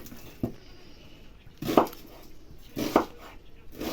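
Onion being chopped with a knife in a home kitchen, a few separate knife strikes on a board spaced about a second apart, near and moderately loud, with faint speech between.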